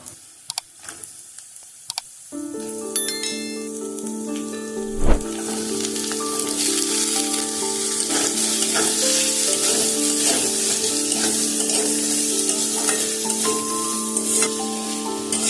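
Chopped vegetables for a broken wheat pulao hit hot oil in a pan with a sharp sizzle after a few quiet taps, then keep frying in a loud, steady crackle with occasional stirring clatter.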